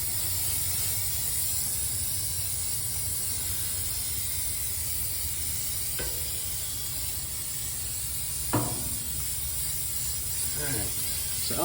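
Aerosol spray can coating a new Lone Star Grillz Santa Maria grill, a long steady hiss running throughout with a few brief clicks and knocks near the end.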